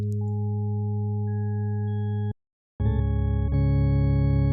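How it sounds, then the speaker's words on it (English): An additive organ tone on the VPS Avenger 2 synth, built from stacked sine waves: a steady, pure sustained chord cuts off, then returns richer and louder with more harmonics, without any voices. "we can do an additive organ"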